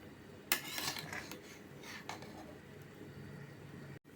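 A spoon stirs coconut milk rice with ghee in a pot, scraping and clinking a few times near the start, then fading to faint rubbing strokes.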